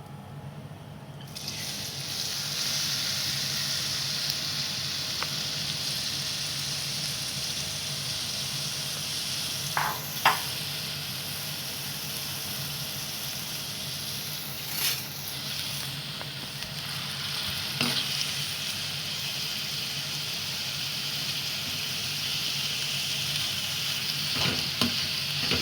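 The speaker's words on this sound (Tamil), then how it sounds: "இப்போ ஆனியன் போட போகிறேன்" Onions frying in hot oil for a chicken uppu kari give a steady, loud, close sizzle throughout, with a few brief clinks and stirring sounds and no talking.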